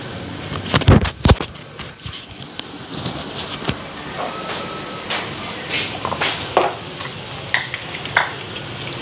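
Boiled cauliflower and potato fry in hot oil with jute and curry leaves. A steady sizzle runs under repeated stirring scrapes and clatters, fairly close and loud.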